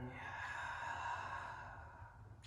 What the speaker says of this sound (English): opening the mouth and exhaling